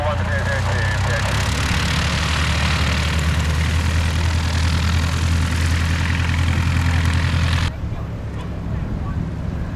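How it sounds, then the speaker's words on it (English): A Shuttleworth Spitfire's engine idles after landing at an air display, a loud steady low rumbling drone that continues throughout, then drops sharply in level near the end. "they're having cooled the engine as usual for a few moments"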